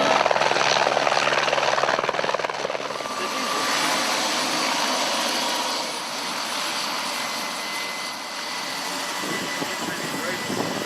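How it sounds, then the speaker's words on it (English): A helicopter arrives at a police scene in New Zealand. Its loud, steady rotor and engine roar fills the whole stretch, and voices talk beneath it. "You got a chopper coming."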